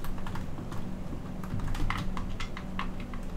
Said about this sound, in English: I'm clicking all the buttons